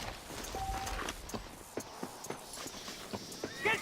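Horse hooves clip-clop in Red Dead Redemption, a Western video game, with a short whinny near the end, heard over game ambience and scattered background sounds.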